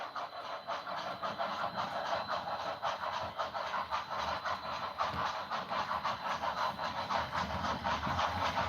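A model train runs on a home layout, a steady rumbling clatter with rhythmic wheel clicks and motor whine that stays close and continuous throughout, with no voices.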